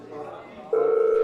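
A telephone ringing tone sounds during a call, a steady electronic tone that starts partway through and holds to the end, preceded by faint background noise.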